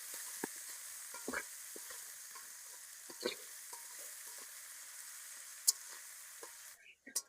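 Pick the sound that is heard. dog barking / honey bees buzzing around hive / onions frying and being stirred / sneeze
onions frying and being stirred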